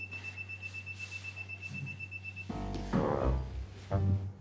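A gas leak detector emits a steady high electronic tone continuously for a couple of seconds over a low mains hum, then stops as louder clattering and shuffling noises take over.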